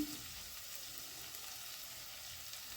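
Vegetables sautéing in a pan for Chettinad-style sambar rice (bisibela bath), a soft, steady sizzle with a faint clink at the start, heard alone without speech.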